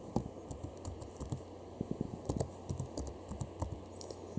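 Keys clacking on a computer keyboard as a command is typed into a Windows prompt, a steady run of close, quiet clicks in small bursts against faint room hum.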